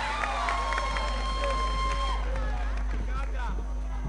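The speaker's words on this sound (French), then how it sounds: "Bien sûr que je vous prie d'applaudir très fort," An audience at a live show cheers and applauds as a comedian-rapper is introduced, a lively crowd roar with scattered shouts while a voice talks over it.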